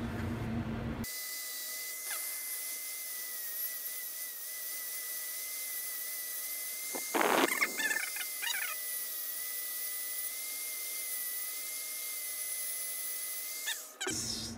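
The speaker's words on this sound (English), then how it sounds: "So I just went ahead and grinded it down so that we now have something like looks like this." A rotary tool grinds down a lock pick hook, cut for an Assa/Trioving Twin combi lock, with a steady close high-pitched whine and a brief rougher burst midway before it cuts off.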